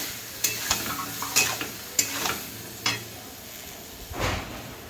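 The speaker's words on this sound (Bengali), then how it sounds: "মশলা দিয়ে এবার সুন্দরভাবে কষিয়ে নেব।" Ginger, garlic and whole cumin fry with ground spices, eggplant and potato in a pan, a soft sizzle under a series of distinct stirring scrapes and knocks, roughly one every half second to second.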